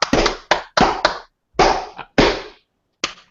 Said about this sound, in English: Are we still clapping? Are we going to continue clapping?